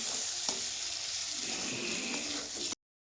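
Boiled eggs and potato pieces frying with spices in an oil-filled pan, a dense close sizzle with a few soft stirring knocks, then a sudden cutoff into silence.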